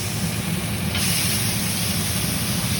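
Kalbi short ribs sizzle on a hot grill with a loud, steady, close hiss that carries unbroken throughout, with no voices.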